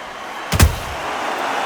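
A single heavy thud of a counter punch landing in the boxing game Undisputed during a women's bout, sharp and loud, alone and brief.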